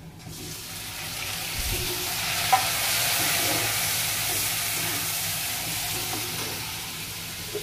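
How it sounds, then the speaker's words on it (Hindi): Ingredients for pasta fry in a pan with a steady, moderately loud hiss, with a few brief stirring clatters mixed in. "पास्ता के लिए ये जो सब सब रहता है उसको फ्राई कर रही है"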